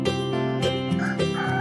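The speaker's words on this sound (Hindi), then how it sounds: "मुर्गे के कुकड़कू बोलते समय ही जाग जाते" A rooster calls in a rural village setting with a strained, harmonic, crowing-style cry in several short rising pulses, close and clear with no voices.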